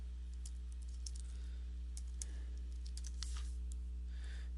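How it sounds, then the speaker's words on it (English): Someone types two words into a web form on a computer keyboard. The soft, scattered keystrokes and clicks are faint and close, over a steady low electrical hum, with no talk. "I went ahead and I'm going over here and clicking on to type in the two words"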